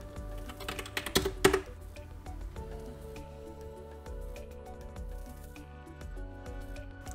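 Keys on a computer keyboard clatter up close in quick, irregular bursts, with a dense flurry of clicks early on giving way to sparser, lighter taps.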